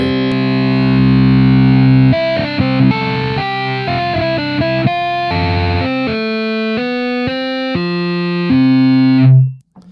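Heavily distorted electric guitar plays chords and a short riff through a 4x12 speaker cabinet, thick and loud, ending on a sustained note that cuts off.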